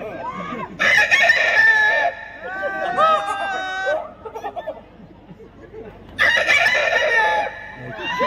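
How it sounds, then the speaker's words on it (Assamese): A rooster's crow sounds in two loud bursts, partly blending with nearby chatter and laughter, and people talk between the calls. "মুৰ্গীটো ৰাতিপুৱা কেনেকৈ ডাক দিয়ে কুকুৰে চৰাই এখানে কুকুৰে চৰাই চাউণ্ডটো দিবা"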